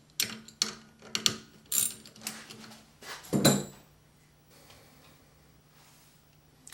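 Metal lathe chuck jaws being loosened and adjusted to grip a banjo rim, with close ratcheting clicks, clanks and metallic knocks in irregular bursts, then fading to quiet.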